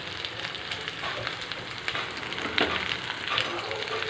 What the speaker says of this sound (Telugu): ఇప్పుడు క్యారెట్ ముక్కలు వేసుకుందామండి